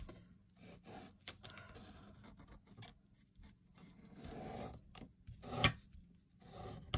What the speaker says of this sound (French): Ce que je viens de tracer au crayon, là, je vais simplement le découper au cutter.